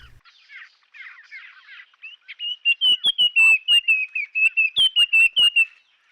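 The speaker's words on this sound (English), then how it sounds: "And now perhaps a family of puff-throated babblers." A family of puff-throated babblers calls at a rocky forest pool: soft chattering at first, then a loud run of rapid, clear repeated whistled notes close by.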